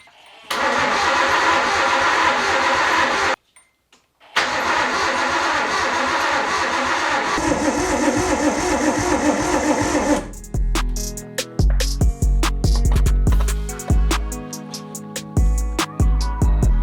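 An RB-swapped Nissan S13 240SX engine starting for the first time in four years: long loud starter cranking, a brief pause, more cranking, then it catches into a rough, uneven idle with sputters.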